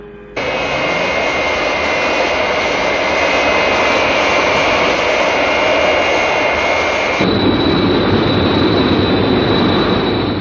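A loud, steady jet plane roars close by in the 1967 Captain Scarlet puppet series. A sustained high whine runs over broad rumble, and the tone shifts abruptly near the end.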